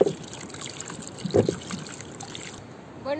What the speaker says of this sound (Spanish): tenemos que lavar bien lavado para cocinar